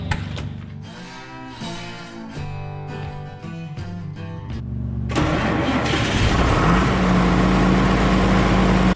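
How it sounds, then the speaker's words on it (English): A John Deere 7520 tractor engine cranks with rhythmic starter pulses for about five seconds, then catches and roars into a loud, steady diesel idle, up close, before a snow-blowing job. "So first thing we're gonna do is start this 7520."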